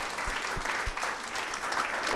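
A camp-meeting audience gives the service team a brief burst of continuous applause, a steady wash of many hands clapping at moderate volume.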